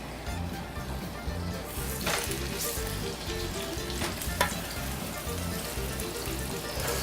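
Short ribs for an Italian dish frying and searing in a hot pan, a continuous dense sizzle with occasional sharper crackles and pops, close and steady, with no talking.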